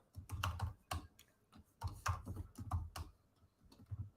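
Keys on a computer keyboard clatter close by in quick irregular bursts of clicks, with short pauses between runs and no voice.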